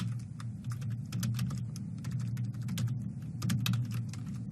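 Code typed on a computer keyboard while programming an ultrasonic sensor setup on a Raspberry Pi, with rapid, uneven clusters of crisp key clicks over a low background hum, close and fairly quiet.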